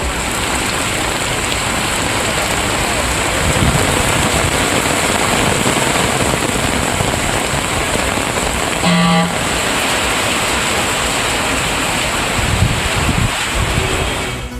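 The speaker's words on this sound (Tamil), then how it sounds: "திருவாரூர் மாவட்டத்தின் பல்வேறு பகுதிகளில் கனமழை." Heavy rain falls steadily across parts of Tiruvarur district, a dense, continuous hiss of downpour on surfaces with a faint wind rumble, loud and unbroken throughout with no voices.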